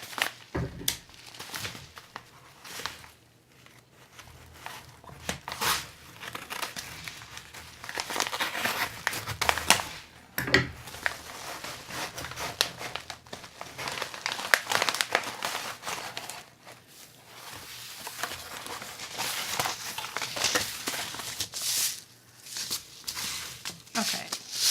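A paper envelope of seeds is handled and torn open, giving close crinkling, rustling and tearing in bursts, with a voice speaking faintly at times.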